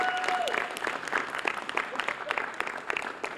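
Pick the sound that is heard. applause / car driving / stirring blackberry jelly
applause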